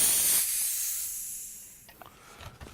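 Compressed air bleeds from an airsoft HPA fill line in a loud, steady hiss that fades over about two seconds, followed by a few quiet clicks as the fitting settles.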